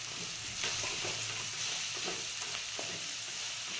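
Vada pav potato filling sautéed in a pan with coriander powder and turmeric, giving a steady soft sizzle with a few scraping spoon strokes, close and fairly quiet, with no talking.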